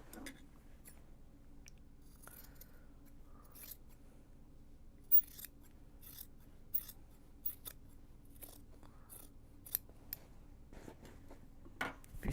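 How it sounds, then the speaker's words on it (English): Scissors snip through Japanese fabric for a drawstring bag in a quiet room. A series of short, crisp, somewhat harsh cuts comes at irregular intervals over low background hum, with no talk. "those scissors sound horrendous"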